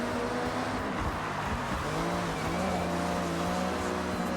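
A Honda Beat's small engine in Forza Horizon 6 revs and drops as the car downshifts through a corner, its tone rising and falling steadily and loudly with no voices.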